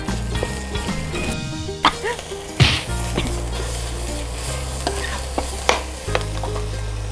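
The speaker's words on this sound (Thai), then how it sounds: "ผัดให้เครื่องแกงเราหอมเลยนะคะ" Thai curry paste for chicken jungle curry with raw banana is stir-fried in a pan, with a steady sizzle broken by several louder scraping stir strokes and faint background noise.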